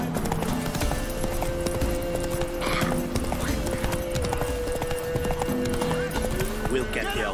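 A horse's hooves clip-clop in a steady trotting rhythm in The Witcher 3: Wild Hunt. Characters talk over the hoofbeats.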